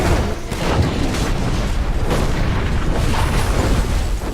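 Cannon fire in the video game Dungeon Siege III, a loud, continuous rumble of booming blasts and bursts rolling over one another with no gaps.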